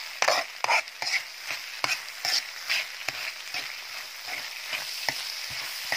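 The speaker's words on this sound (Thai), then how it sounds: "ผัดให้ส่วนผสมทั้งหมดเข้ากันนะคะ" Fried rice with canned fish being stir-fried in a pan, a steady sizzle broken by repeated scraping and tossing strokes of the spatula, close and fairly loud, no voices.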